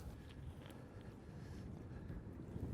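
Gusting wind on the Bighorn River in Wyoming in April, a steady low rumble buffeting the microphone, alone and fairly quiet throughout.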